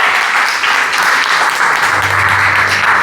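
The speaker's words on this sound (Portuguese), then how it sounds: "Você pode aplaudir Jesus?" A church congregation applauds during a worship service, steady crowd clapping filling the whole stretch at close range, with a low hum of voices or music rising underneath toward the end.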